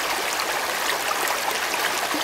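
Steady rushing and babbling of a stream in a post-apocalyptic film scene, a close, continuous bright wash of flowing water with no voices.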